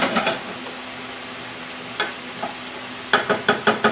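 Risotto ingredients such as canned tomatoes and mushrooms warm in a pan with a soft, steady sizzle, broken by several sharp stirring scrapes, including a quick run of five near the end.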